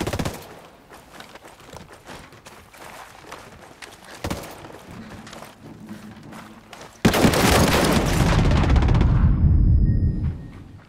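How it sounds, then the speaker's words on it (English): Hostile gunfire in the video game Ghost Recon Breakpoint, with sharp shots and bursts scattered across the scene, then a loud, dense barrage that swells over the last few seconds. "Hostiles are shooting."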